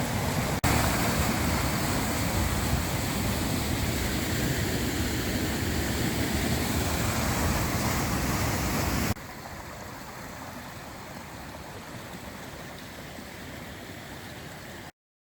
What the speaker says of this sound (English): There's more water flow now than when I took the photograph.